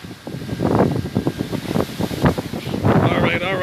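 Strong gusts buffet the microphone during Hurricane Ida's landfall, a loud rushing roar that surges and drops under excited voices speaking throughout.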